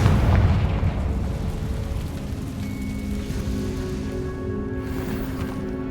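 Fire spell blast in the fantasy video game Hogwarts Legacy, a deep booming explosion at the start that settles into a rumbling, crackling tail with faint tonal game ambience.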